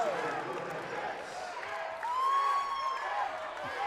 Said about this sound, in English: The crowd is yelling 10.